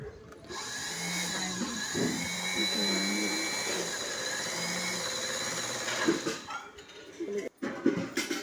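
Sewing machine stitching lining onto a dress made from a saree, a steady close mechanical whir running for several seconds before breaking off into brief stops and restarts near the end.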